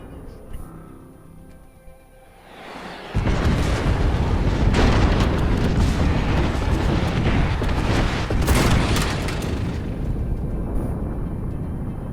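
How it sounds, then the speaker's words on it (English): Airstrike called in by a thrown grenade in Apex Legends: after a quieter stretch, a loud sustained barrage of heavy booming explosions erupts and rolls on continuously for several seconds, with bursts of crackling debris. "when you throw this grenade at a hostile, or preferably a group of hostiles, like this, Signaling an airstrike"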